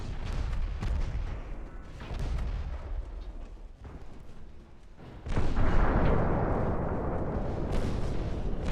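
A warship explodes in a flash fire during a naval battle in Ultimate Admiral: Dreadnoughts, with heavy booming artillery fire leading up to a sudden loud blast that rolls on into a long roaring rumble.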